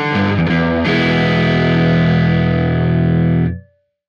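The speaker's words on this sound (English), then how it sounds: "The Marshall Plexi Classic plugin gives me the close mic sound of a cranked plexi amp." Electric guitar through a Marshall Plexi Classic amp plugin with jumped channels, giving a cranked, close-miked distorted tone: a few quick picked notes, then one big sustained chord ringing loudly before being cut off into silence.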